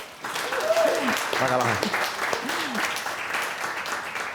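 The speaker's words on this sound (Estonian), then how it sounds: "Teeme minu kollektiivile ka ühe suure aplausi." A studio audience applauds the kitchen team at a cooking show, steady clapping throughout with a speaking voice running over it.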